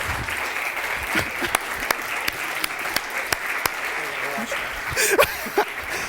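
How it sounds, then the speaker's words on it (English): Church audience applauding during a service talk on healthy diet, steady crowd clapping with a few sharper claps and brief voices near the end. "Let's give them a round of applause."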